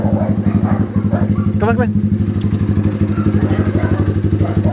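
A motorcycle engine runs close by with a steady, loud, rhythmic idle throb throughout, near a Belgian Malinois, Aspin and Kangal dogs; a person speaks briefly over it.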